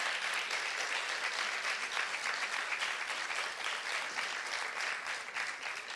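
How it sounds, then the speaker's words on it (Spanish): An audience gives sustained applause for sign language interpreters at an event, a dense, even wash of clapping that stays fairly quiet and steady the whole time. "Hoxe un aplauso para Fátima e para Inés."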